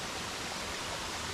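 Steady, even roar of a waterfall heard up close on a hiking trail, a constant rushing wash of water with no voices over it.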